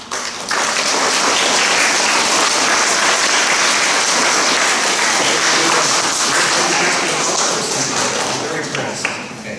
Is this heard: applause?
yes